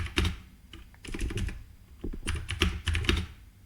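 Quick, uneven keystrokes on a computer keyboard while a command is entered in a Linux terminal to edit a config file on a Raspberry Pi Zero, close and clear with no voices.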